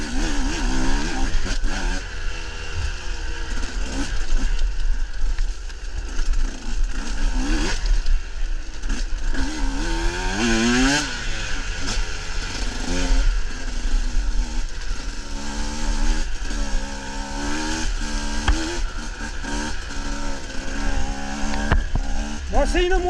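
KTM 125 XC-W enduro motorcycle, a 2024 model, ridden on a single-track trail, its two-stroke engine revving up and down in rising and falling whines, loud and close, with a rider talking over it at times.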